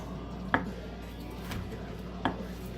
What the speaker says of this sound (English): Now we're going to cut this in vertical slices here along the edge.